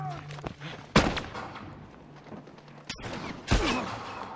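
Gunfire in the video game The Last of Us, with sharp shots near 1 s, 2.9 s and 3.5 s standing out over steady background game noise and faint ambience.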